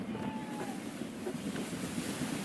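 Gusty wind rushes and buffets while a sailing ship moves through water in Assassin's Creed III, a steady low roar with soft wave wash and no talk.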